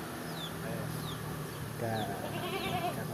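Goats in a farm pen, one with a cough during the rainy season, bleat with a few rising cries against a busy background, while people talk nearby.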